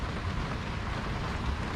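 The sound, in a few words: rain falling on a boat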